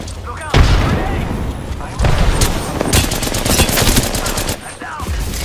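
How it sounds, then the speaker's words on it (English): Combat in the Apex Legends video game: a sharp close blast followed by rapid bursts of gunfire and scattered impacts, dense and loud throughout, with game voice lines over the action. "Look out! Grenade!"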